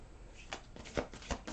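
Tarot cards being shuffled by hand, a few quiet, soft riffling bursts close up with short gaps between them.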